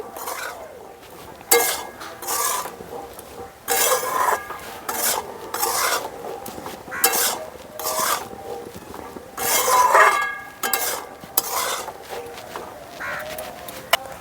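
A spoon scraping and stirring spices into kabli chickpeas in a pan for an oil- and ghee-free vegetarian dish, giving repeated rasping strokes in irregular bursts with short pauses between, close and fairly loud.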